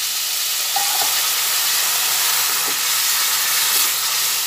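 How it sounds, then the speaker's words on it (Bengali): Spice masala in a pan with a little water sizzles loudly and steadily, a dense continuous hiss with faint stirring knocks throughout. "ভালোভাবে নাড়াচাড়া করে নিই।"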